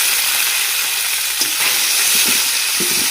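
Chopped onion with whole garlic and a bay leaf hitting hot goat fat, a loud, dense, steady sizzle right up close, with faint stirring scrapes partway through.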